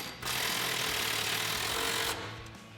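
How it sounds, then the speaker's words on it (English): An impact wrench with a 19mm swivel socket tightens a control arm nut on a Toyota Tacoma front suspension, one steady loud rattling burst of about two seconds that cuts off abruptly. "To tighten it down, we're going to be using a 19mm swivel socket, an impact"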